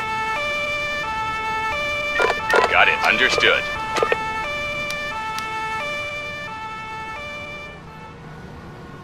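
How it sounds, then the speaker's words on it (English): A police car siren in the video game Emergency sounds loud and close, alternating between two high tones in a steady rhythm, while a voice briefly speaks over it partway through. "The police car is taking the prisoner to the detention cells at the base."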